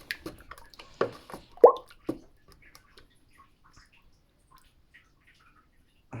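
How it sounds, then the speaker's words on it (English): Casting slip clay drips off a stick during pottery slip casting, a few close, soft plops and wet drips spaced irregularly, then trailing off into near silence. "Just looking at how the clay's dripping off the stick, it's better than it was."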